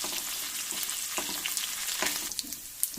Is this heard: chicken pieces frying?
yes